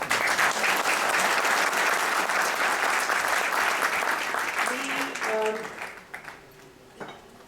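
An audience at an animal welfare event applauds the Chief Minister, a loud burst of many hands clapping that holds steady for several seconds, then thins out and fades to a few scattered claps and faint room sounds.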